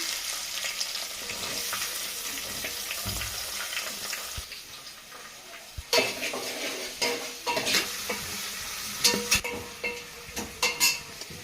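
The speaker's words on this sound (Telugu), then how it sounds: "చిన్నులపాయలు అయితే బాగా ఫ్రై అయినండి" Small onions with green chillies fry in a pan and give a steady sizzle. A spoon stirs them and scrapes against the metal in sharp, repeated clatters, heard close up with no talking.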